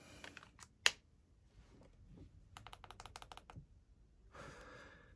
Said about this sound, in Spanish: Cinco clics para encender el mod.